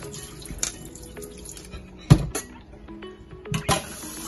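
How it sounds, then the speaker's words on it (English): Water poured over rice to rinse it, in a rice cooker pot in a kitchen: faint, intermittent splashes and trickles with a few sharp clinks, close by and without speech. "Let's put more water in."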